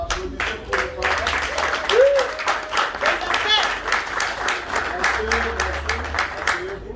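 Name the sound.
wedding guests applauding the bride's parents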